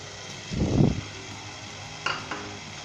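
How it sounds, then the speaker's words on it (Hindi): Punjabi-style pumpkin sabzi being fried and stirred in a pan over high heat: one loud scraping stir, then quieter sizzling and a couple of light utensil clinks. "2 से 3 मिनट अच्छे तरीके से हम भूनेंगे तेज़ आंच के ऊपर इसे"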